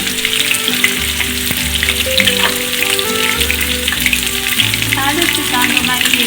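Onions sizzling and frying in a pan as the base for chicken biryani, a steady continuous crackle close by with music playing over it.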